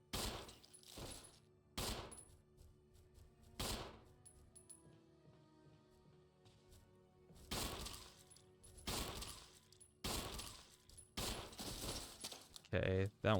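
Gunfire in the Resident Evil HD Remaster video game comes as several sharp, loud shot bursts separated by quiet gaps, with a player talking quietly between them.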